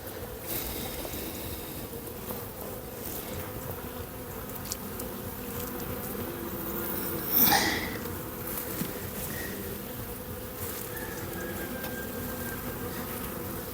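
Honeybees hum in a dense, continuous buzz at an opened hive in January, close and steady, with a brief handling knock or rustle partway through.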